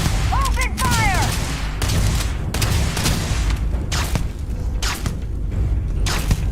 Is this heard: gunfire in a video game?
yes